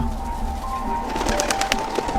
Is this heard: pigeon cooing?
yes